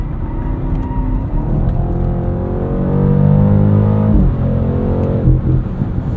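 A 2023 BMW X7 M60i on winter tires, driven at night in sport mode with its 8-speed gearbox, pulls with a steady engine drone that rises, dips at a shift, then settles, heard from inside the cabin.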